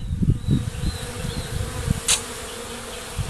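Bees hum and buzz around a collapsed, mildewed hive full of dead bees, a steady insect drone close by with one brief sharper buzz partway through.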